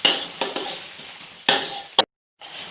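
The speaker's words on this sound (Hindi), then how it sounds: "अब इसमें थोड़ी सी दालचीनी, 2-3 लौंग और 1 बादिया खलाई का फूल हम डाल देंगे।" Whole spices, cinnamon, cloves and star anise, fry in hot oil in a kadhai, a steady close sizzle broken by a few scraping stirs, then a brief silence before the frying resumes.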